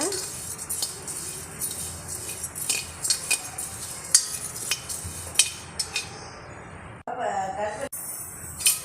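Red flattened rice (aval) is dry-roasted and stirred continuously in a pan. A metal spoon scrapes and clinks against the pan in irregular bursts over a steady background hiss, with a few sharper clinks standing out.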